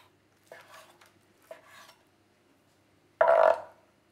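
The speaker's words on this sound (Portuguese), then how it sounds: "vou cortar o robalo em pedaços" A knife cuts skinned sea bass into pieces for ceviche, giving three separate close scraping cuts: two short ones, then a louder, longer stroke near the end, with quiet gaps between and no voices.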